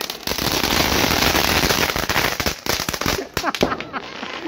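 Diwali firecrackers bursting in rapid, dense crackling volleys, loud and close, with a few sharper separate pops toward the end; voices are faintly audible beneath.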